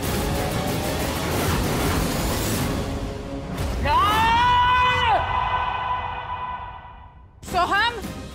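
A child yells loudly indoors in a household scene, with long rising and falling cries amid noisy background voices, followed by a shorter second shout.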